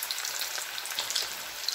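Gram-flour batter dropped into hot oil, frying with a continuous close, bright sizzle and small crackling pops.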